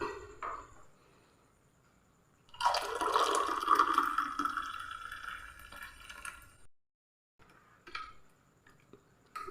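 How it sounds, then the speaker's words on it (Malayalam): Tea is strained and poured steadily into a cup for a few seconds, a soft splashing trickle, followed by a few quiet drips and clinks. "ചായ നമ്മൾ ഇതിലേക്ക് അങ്ങ് അരിച്ചങ്ങ് ഒഴിച്ചു കൊടുക്കാം"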